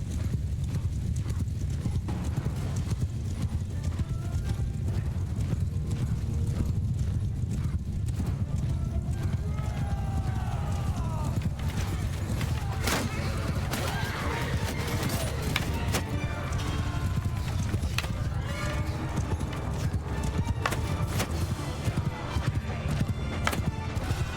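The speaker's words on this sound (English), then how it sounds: "We have Horse Army versus Horse Army here." In the Bannerlord battle game, two mounted armies clash with a dense, continuous drumming of galloping hooves, while horses neigh and whinny over the thundering charge.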